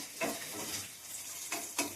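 A Mughlai paratha fries in a pan, giving a soft, steady sizzle broken by a few brief scraping stirs, quiet and close, with no voices.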